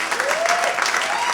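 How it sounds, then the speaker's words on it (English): A stand-up comedy audience breaks into a steady, dense round of applause for a Navy commander picked out of the crowd, the clapping close and continuous from start to end. "Y'all give them a round of applause."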